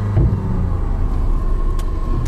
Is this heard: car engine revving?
yes